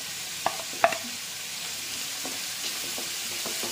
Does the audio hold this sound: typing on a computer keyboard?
no